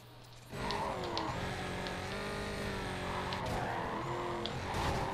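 A Corvette in Need for Speed Carbon roars at full throttle after a short quiet start, its engine note rising and falling through gear changes with brief tire squeals and skids, loud and continuous.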